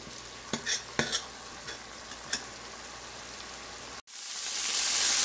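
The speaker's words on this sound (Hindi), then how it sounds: "हस्ब ज़ायक़ा नमक डाल के और इसको भून लेंगे हम।" Green masala with salt and turmeric frying in a pan, a steady close sizzle with a few spoon clicks and scrapes early on, then a brief gap before a louder, brighter hiss of frying rises.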